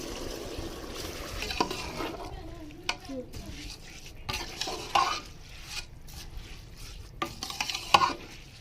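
A spoon stirs masala and peas in a cooking pot for matar pulao, making soft scraping and shuffling sounds over a low sizzle, with a few clinks against the pot.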